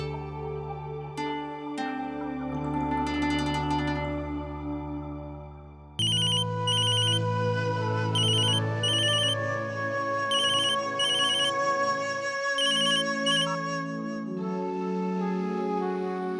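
An electronic phone ringtone plays as a melodic, repeating tune, switching to a brighter looping ring pattern partway through, with no talking.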